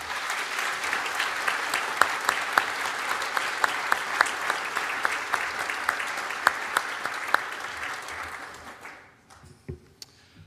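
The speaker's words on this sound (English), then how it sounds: "Please join me in thanking them with a well-deserved round of applause." A graduation ceremony audience at a law school applauds in a dense, loud, steady round of clapping with a few sharp claps standing out, before it quickly tapers off to near silence at the end.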